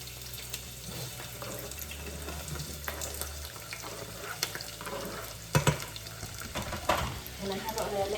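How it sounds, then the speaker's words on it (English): Chopped onion sizzling and frying in hot oil in a pan on an electric stove, made while cooking Greek keftedes, with a steady crackling hiss, occasional stirring clatter and a few louder knocks nearby. "So the oil is ready. We're going to add the onion."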